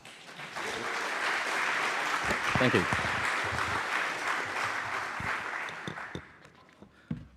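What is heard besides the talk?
audience applause at a conference talk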